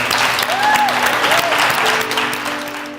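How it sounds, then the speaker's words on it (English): A class audience at a live event claps and cheers loudly for about three seconds, dense applause tapering slightly at the end with a few voices mixed in. "Clap it up for being the first class."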